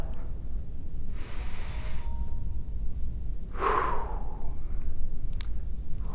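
A forceful exhale through the nose and mouth during a dumbbell workout, one breathy rush close by over a steady low background hum, with a fainter breath before it.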